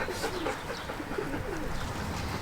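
Pigeons coo softly outdoors at a holiday spot, repeated low throaty calls at a moderate distance over a light ambient background, with no voices.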